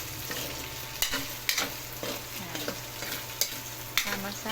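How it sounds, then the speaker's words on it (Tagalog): Browned garlic and dried pork fry in a pan, a constant close sizzle broken by sharp scraping stirs at a steady beat, with no talk. "pag medyo brown na ang ating garlic, sasama na natin ang pinatuyong pork"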